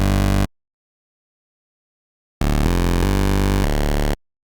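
Serum synthesizer saw patch with two detuned oscillators, a bright buzzy sustained tone played as a short note, then after a silence a run of several held notes, loud and alone.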